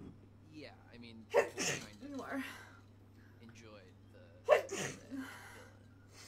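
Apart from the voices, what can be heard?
sneezes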